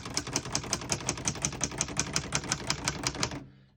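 Rapid, even keystrokes clatter on a 1959 Hermes Rocket portable typewriter, about twenty sharp close strikes in a steady rhythm before stopping abruptly.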